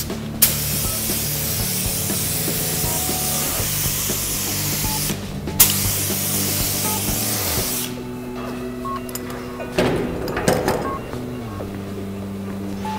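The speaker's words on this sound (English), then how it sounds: "So I'm going to spray my activator over this, then I'm ready to dip it." Hydro dipping activator is sprayed over a part in long, steady aerosol hisses, broken by a brief pause, before the spraying stops and a quieter room with faint clatter remains.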